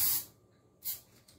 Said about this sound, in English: we're going to spray it with some cooking spray